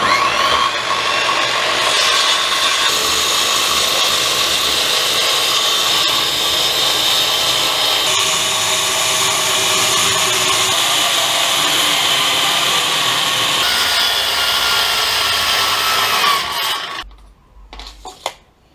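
A regular steel hand saw cuts through wood for a DIY nursery closet, a steady, loud rasping that continues without pause for about seventeen seconds before stopping, followed by a few faint knocks.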